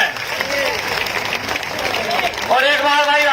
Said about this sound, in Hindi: इनके लिए सब तालियां एक बार बजावें।